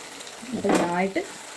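Sliced onions drop into beef frying in a pan, setting off a sudden burst of crackling sizzle that swells for about half a second, then fades to a low hiss, with a brief second flare near the end.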